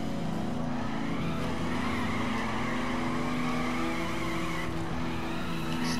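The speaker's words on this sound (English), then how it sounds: "Even without putting the gas on, I'm already drifting." A car in The Crew drifts around Salt Lake City, its tires squealing in a continuous sustained screech over the engine note, loud and unbroken throughout.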